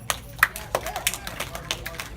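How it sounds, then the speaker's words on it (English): A handful of claps from a small audience at a children's birthday magic and ventriloquism show, sparse and irregular against a noisy room where people talk. "Clap if you like that."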